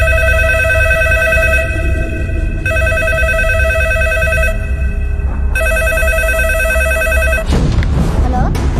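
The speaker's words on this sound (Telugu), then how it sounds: "రేయ్, ఫోన్ పెద్దనానికి" A telephone rings loudly in repeated electronic bursts with short gaps between them, over a steady low rumble, cutting off near the end into noisy movement, during a tense film scene.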